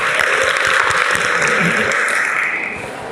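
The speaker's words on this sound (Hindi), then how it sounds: "सर के लिए भी जोरदार तालियां हो जाए" Students at the Satpuda ITI campus in Balaghat, Madhya Pradesh, clap loudly and steadily as one packed wash of applause, which fades slightly toward the end.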